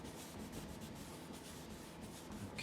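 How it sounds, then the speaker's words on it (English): Fine-grit wet sanding of a sailing dinghy's gelcoat repair, moving from 1500 to 2000 or 2500 grit, as a faint, continuous soft rubbing hiss with slight rhythmic strokes and no talking. "what this is doing in effect is taking out the 1500 grit scratches and replacing them with 2000 or 2500 grit scratches"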